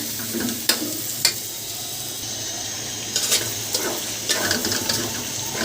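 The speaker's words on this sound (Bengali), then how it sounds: "এখন এটা ফ্রাই করবো এটা দিয়ে আলাদা সবির তেল দিলাম না" Beef udder meat sizzles steadily in its own fat in a pan, broken by several sharp scrapes and clatters of stirring, close up with no talking.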